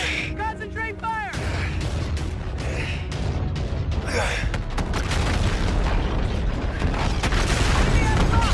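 Ship-mounted swivel guns fire in rapid bursts with heavy booming explosions during a naval battle in Call of Duty: Infinite Warfare, loud and dense throughout, under urgent shouted voices.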